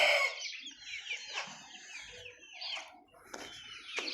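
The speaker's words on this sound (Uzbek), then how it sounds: "Jo'jalarimiz bor, anchagina." Black chicks and chickens from a flock of about three hundred chirp and cluck at close range, with sharp high peeps and scattered clucks overlapping in an uneven, busy chatter and no talk.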